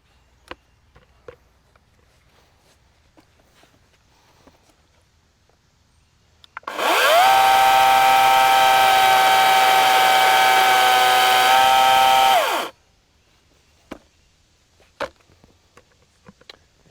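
An Oregon CS300 chainsaw runs loud and steady for about six seconds while self-sharpening its chain, starting and cutting off abruptly, with faint clicks and handling noises before and after.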